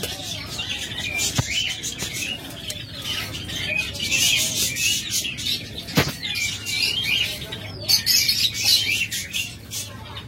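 Caged birds for sale, including lovebirds, budgerigars, Java sparrows and cockatiels, chirping and tweeting in a busy overlapping chorus, with occasional wing flutters and sharp knocks.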